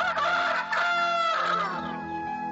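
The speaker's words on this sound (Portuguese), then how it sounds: "o galo cantou." A rooster crows in one long, loud, drawn-out call with a rising and falling cry, clear and close, with no other sounds around it.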